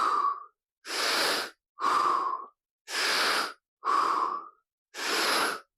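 Six slow, deep breaths during a guided anxiety-release stretch, each a close, airy inhale or exhale of about half a second to a second, separated by clear silent pauses.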